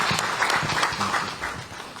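Audience applause at a Ghanaian media report launch held by the University of Ghana Department of Communication, welcoming the keynote speaker: steady, dense clapping from a seated crowd, sustained at an even level throughout.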